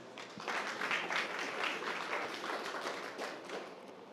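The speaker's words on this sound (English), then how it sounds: "So with a round of applause, WatchBuilt." An audience at a startup pitch competition applauds as the next team takes the stage, a steady, even wash of clapping held at moderate distance for several seconds with no talking.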